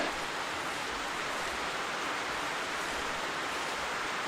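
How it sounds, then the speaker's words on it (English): Heavy rain falls steadily in the hunting game The Hunter 2015, a continuous loud hiss with no pauses and nothing else heard. "it's pretty much been raining from the minute I walked out of the camp."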